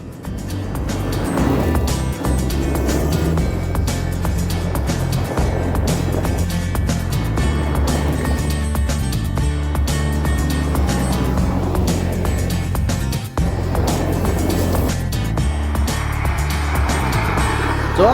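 A Ford Mustang driving hard, its engine roaring steadily and loudly throughout as it revs up and down through the gears, with a brief dip in the middle.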